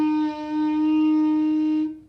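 A clarinet sounds one sustained note with its tone hole not fully covered, a steady, slightly thin and buzzy tone held for about two seconds, played close and alone.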